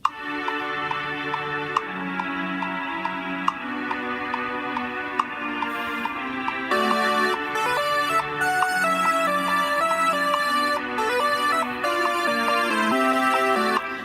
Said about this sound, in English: So one of the things I added was sort of violin strings,